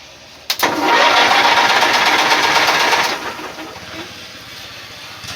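A stuck engine on a Bolens QT17 garden tractor is jumped and cranks over with a sharp spark click, then a loud, steady starter whir runs for about two and a half seconds before easing off into a low hum.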